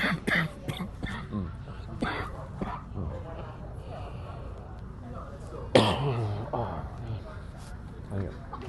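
A few sharp coughs and throat-clearing sounds, close by, over a murmur of background noise at a youth hockey game.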